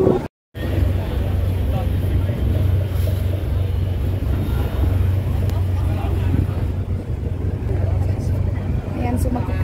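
Boat engine droning steadily on a river crossing to Wat Arun in Bangkok, with wind and water wash throughout and people talking over it.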